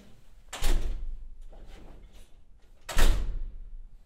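An apartment door is pushed shut hard twice, two loud heavy thuds about two seconds apart, with softer handling sounds between them in a quiet room.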